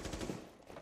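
Rapid automatic gunfire in the Rainbow Six Siege video game, a dense burst of quick shots filling under a second.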